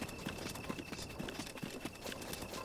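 Horse hooves clip-clop quickly and evenly on the ground in Zelda: Breath of the Wild, a close, steady galloping beat over faint background ambience.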